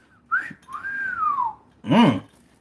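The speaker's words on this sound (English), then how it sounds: "For all the ladies, I'm whistling." A person whistles a few short notes: a quick rising chirp, a longer sweeping tone that slides downward, then a brief voiced sound, fairly close and moderately loud.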